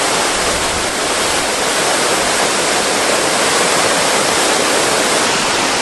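A waterfall in Bosnia gives a loud, steady rush of falling water that fills the whole clip with dense, unbroken noise. No voices are heard.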